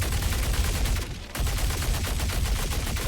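A Fresnel Volt LMG in a video game fires a loud, dense, continuous automatic stream with a brief pause near the middle before the rapid shots resume.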